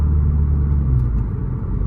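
A 2023 Subaru WRX with a muffler-deleted axle-back exhaust gives a deep, close, continuous rumble under acceleration, loud and unbroken with no voices.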